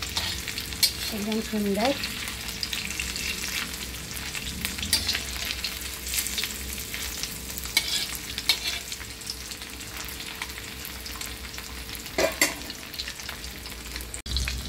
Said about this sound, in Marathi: हे बघा किती मस्त तळत आहे